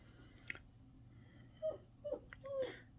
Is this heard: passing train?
no